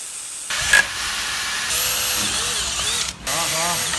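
An electric power drill boring through a folding door panel, a sustained close whine that starts abruptly and briefly cuts out near the end, with background voices.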